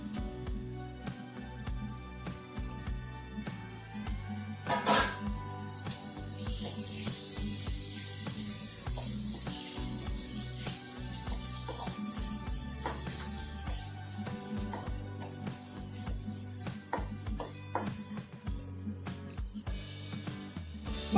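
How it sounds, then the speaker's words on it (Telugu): Boiled mushrooms sizzle and fry steadily in an oily pan for a curry, a continuous close crackle with faint stirring and no talk. "మష్రూమ్ కొంచెం ఒక 2 నిమిషాలు వేగిన తర్వాత ఈ పెరుగు కూడా వేసుకోవాలా"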